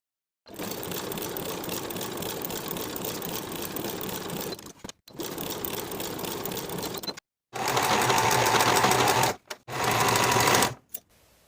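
Sewing machine stitching jeans pocket fabric with a 5/8 inch seam, running close and loud in four steady bursts separated by brief pauses.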